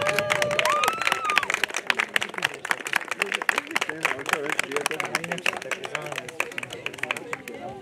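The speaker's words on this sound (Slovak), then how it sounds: "Veľký potlesk." Applause at an award ceremony for winners of a fitness event: a sustained, close crowd clapping with dense rapid claps and some cheering and murmuring voices.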